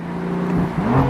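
A BMW M4 convertible with 430 horsepower accelerates in manual mode, its engine giving a steady close droning whir that rises slightly in pitch as it pulls, with no talk over it.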